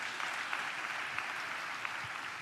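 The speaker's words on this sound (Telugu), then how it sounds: "చప్పట్లు కొడుతూ దేవునికి స్తోత్రాలు చెప్తాం." A church congregation claps hands together in praise, a steady, moderately faint patter of many hands with no voices over it.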